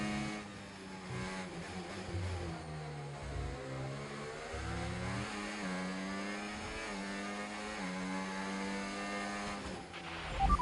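An F1 race car in the racing game F1 25 accelerates hard, its high-pitched engine climbing through rising revs with brief dips at gear changes, loud and continuous with no talking.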